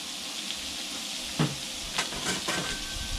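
Shrimp seasoned with salt, pepper and olive oil hitting a hot Blackstone griddle, a loud steady sizzle with a few sharper bursts as more pieces land and are moved around.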